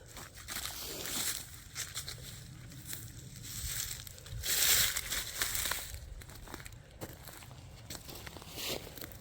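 Frost protection covers are pulled off fruit trees in an orchard after a freeze, producing soft crinkling and rustling of fabric with a few louder crunchy bursts, fairly quiet and close.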